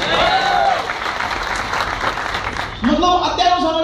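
An audience claps in a steady, fairly loud burst throughout, with a voice speaking over the applause.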